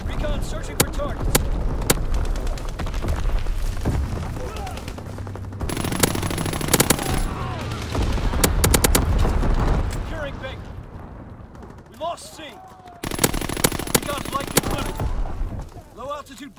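Heavy machine-gun fire and explosions in a Call of Duty WWII Domination match on the Shipment 1944 map, long rattling bursts with sharp cracks, loud and close, with a brief lull midway and radio-style voice callouts.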